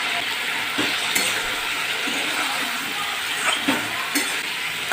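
Vegetables for sukto sizzle steadily in a pan while being stirred, a continuous close frying hiss broken by occasional scraping stirs, with no talking.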